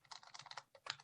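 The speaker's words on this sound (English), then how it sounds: "He's typing a report." Someone taps quickly on a computer keyboard during a report, a short close run of crisp, fast keystrokes with no voices.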